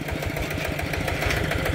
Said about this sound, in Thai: เสียงเครื่องยนต์เนี่ยยังดีมากครับ